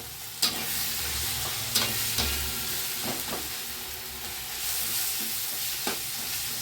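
Onion, tomato, ginger-garlic paste and Kashmiri chili powder fry together for a jackfruit keema. A continuous close sizzle is broken by a few sharp spatula knocks and scrapes against the pan.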